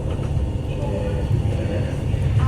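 A passenger train running in Europe, heard from inside the carriage near the Rhine Falls: a steady, dense low rumble and hiss of wheels and motion continuing without pause.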